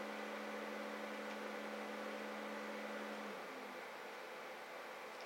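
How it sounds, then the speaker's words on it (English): Steady computer fan hum and broadband whirring noise, continuous and fairly loud with a low tonal drone that fades partway through, no talking. "or the noise that my computer makes."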